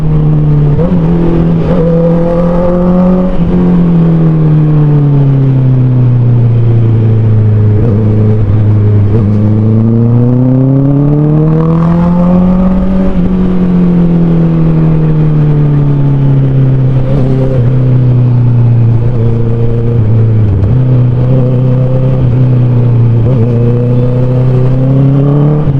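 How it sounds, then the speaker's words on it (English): Loud, continuous Honda CBR 650R motorcycle engine sound with revs rising and falling and short dips where the quick shifter changes gears while riding through traffic. "And you hear the quick shifter,"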